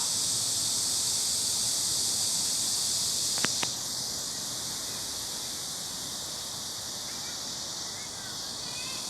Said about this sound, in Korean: 매미 소리 시원합니다.